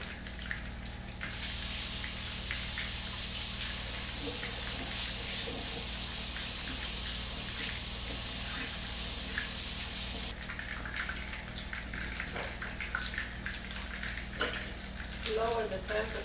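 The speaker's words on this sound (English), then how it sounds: "I need to wash my hands now." Tap water runs steadily into a kitchen sink for hand washing, a continuous close hiss that softens near the end, with light handling clatter.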